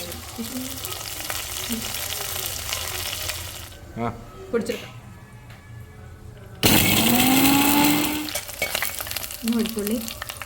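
Garlic and onion frying in a pan for an Angamaly-style pork and plantain dish, a loud continuous sizzle with stirring, interrupted by a brief quieter gap and then a sudden louder burst, close with no talking.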